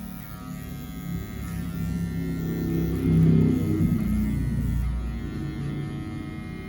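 Electric hair clippers blending a barbershop haircut give a steady close buzz with a low hum, swelling slightly in the middle as the blades work through hair, with no talking.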